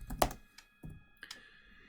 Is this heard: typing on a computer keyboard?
yes